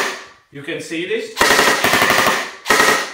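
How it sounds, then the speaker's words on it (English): Rapid bursts of airsoft rifle fire shooting only air, loud and close, in strings of fast cracking shots with short gaps between them, after a brief stretch of speech. "So we are demonstrating this with the airsoft rifles, who is only shooting the air from the guns."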